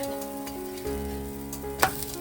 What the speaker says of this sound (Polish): smażymy trzy ostatnie racuszki